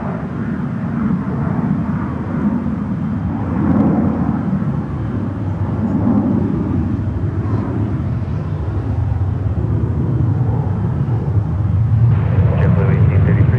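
A JetBlue airliner going around at San Francisco airport gives off a steady, broad jet-engine roar that swells slightly toward the end, with radio voices talking over it.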